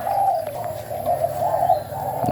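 A spotted dove cooing softly in repeated low, rolling phrases, outdoors with faint background hiss and no talking.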